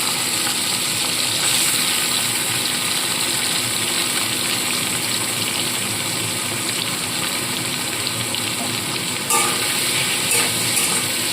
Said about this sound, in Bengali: চিংড়ি মাছগুলো ভালো করে নুন হলুদ মাখিয়ে রেখেছিলাম সেগুলো আগে ভেজে তুলে নিতে হবে তো সমস্ত চিংড়ি মাছ দিয়ে দিচ্ছি